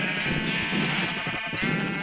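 Sheep in a Minecraft farm bleat in a dense, overlapping chorus, many animals calling at once in a steady, noisy cacophony with no talk.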